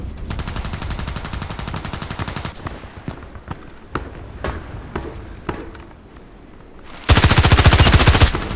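Rapid automatic bursts from an SR3M compact assault rifle ring out in the online shooter game Contract Wars, with a long rattling stream, then scattered single shots, and a very loud, dense burst near the end.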